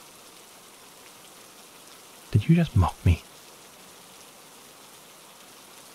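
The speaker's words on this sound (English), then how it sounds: "You've been standing in the rain long enough." Steady rain falls in a soft, continuous hiss throughout, briefly under a close voice speaking.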